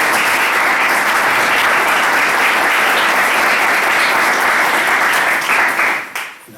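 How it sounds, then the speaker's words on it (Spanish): Sustained, loud applause from a conference audience at a geopolitics event fills the room as a dense, even roar of clapping, then tapers off abruptly near the end. "El aplauso es para vosotros"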